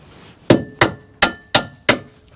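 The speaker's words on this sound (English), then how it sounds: "The hammer's just literally whacked it through." Five loud metallic hammer blows strike a steering rack on a Ford Focus Mk1 at a steady pace, each ringing briefly before the next, with nothing else in between.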